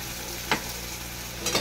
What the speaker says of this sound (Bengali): আমি মশলাটা, পেস্ট করা মশলাটা আমি দিয়ে দিলাম।